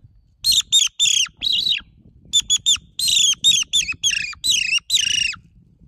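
A HUBERTUS fox call blown to imitate bird chirping, producing loud, close runs of sharp, rising and falling squeaky chirps in quick irregular bursts with brief pauses, and no talking.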